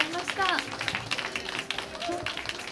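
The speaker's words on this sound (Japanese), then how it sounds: "皆様にもう一度大きな拍手をお願いします。" An audience at a live concert applauding, with scattered clapping running under a voice that speaks over it throughout.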